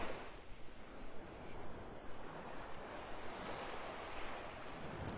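Steady roar of surf washing onto a mile-long stretch of beach in North Naples, Florida, broadband and continuous with some wind buffeting the microphone, no voices.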